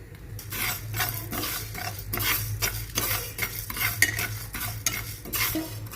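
Steady stirring and scraping of cumin and flax seeds roasting in a pan, a low sizzle underneath, repeated rhythmic strokes of a utensil, close and fairly loud, no voices.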